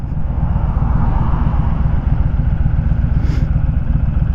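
A Honda Fury motorcycle is ridden in 113° heat, its engine a loud, close, steady low rumble with a rapid pulsing throb and wind noise throughout.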